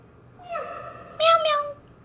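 A child imitates a cat with two drawn-out meows, the second louder and higher, clear and close against a quiet room.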